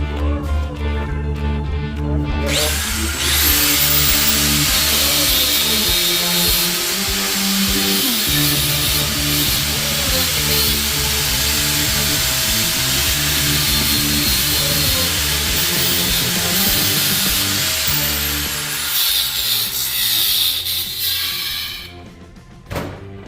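A power tool cuts a piece of angle iron in half in a garage, a loud continuous metallic whine and grind held close by for about twenty seconds before winding down.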